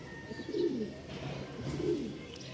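A pair of Ghiya Chilli pigeons, a male and a female, coo softly in two low, rounded bursts, with faint background noise and no talk.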